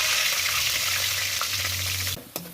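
Curry leaves sizzle loudly in hot oil for a Tamil bitter gourd stir-fry. The frying hiss is steady and close, then cuts off sharply near the end with a faint clink.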